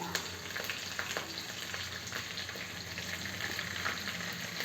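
Green chillies, dry red chillies and curry leaves fry in oil while being stirred for a flattened-rice poha mixture, a soft continuous sizzle with light scraping stirs, fairly quiet and with no talk.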